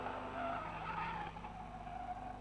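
A Jaguar race car at speed at Donington Park gives a loud, steady engine roar with tyre noise, holding close and continuous throughout.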